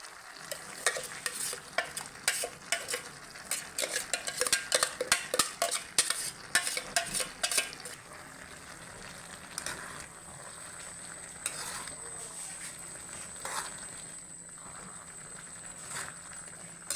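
Boiled vegetables for avial are stirred with ground coconut paste in a small heated pot, giving quick scraping, sizzling strokes at first, then quieter intermittent stirring and a soft simmer.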